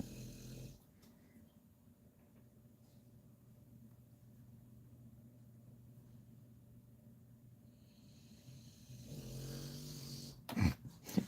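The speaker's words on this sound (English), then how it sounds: "His snoring sounds much better than the chewing that I was doing earlier." A sleeping dog snores quietly and steadily in a calm indoor room, faint and continuous, ending in a few louder snorts or movements.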